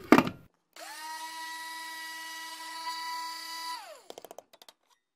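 Small electric grinder whirring up to a steady high-pitched whine as dehydrated kale is ground into powder, running about three seconds before spinning down, followed by a few light rattling taps.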